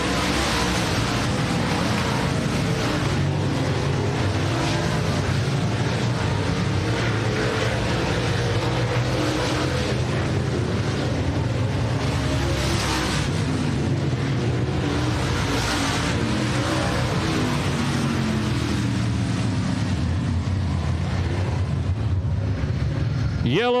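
Race cars accelerating together around a raceway track at a heat race, a dense continuous roar of engines rising and falling, with a voice talking over the noise.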